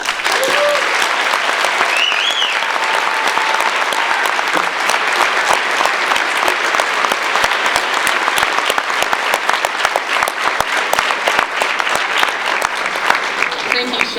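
An audience at a high school Lighthouse Ceremony applauds students, dense sustained clapping that fills the hall throughout, with faint voices and a brief cheer near the start.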